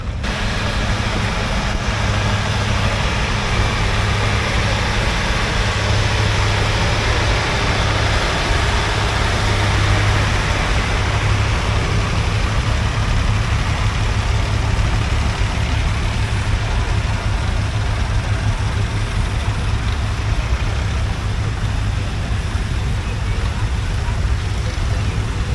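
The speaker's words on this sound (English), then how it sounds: "1940 petrol TVO engine." A 1940 David Brown VAK1 tractor with a petrol TVO engine idles steadily at an outdoor steam rally, a continuous low rumble with a pulsing beat, close and loud throughout, mixed with background crowd noise.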